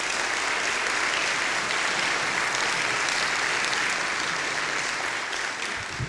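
Steady, dense applause from an audience at a history event honoring an award recipient in Horry County, loud and continuous throughout with no talk.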